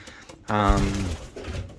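A male pigeon coos once in a soft, low, rolling call, close by, with faint background noise before and after.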